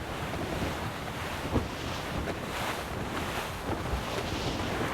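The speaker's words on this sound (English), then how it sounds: "It's quite a rough squall, Cap." A rough squall at sea in Assassin's Creed Rogue brings a dense, continuous roar of wind and crashing waves around a sailing ship. The noise is loud and steady, with gusting swells and no voices.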